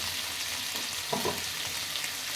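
Tomatoes cook with salt in a pan, giving an even, close frying sizzle throughout, with one brief low scrape or knock midway and no voices.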